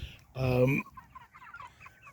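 A single pasture-raised chicken gives a loud, short cluck, followed by softer scattered clucks and faint bird chatter in the background.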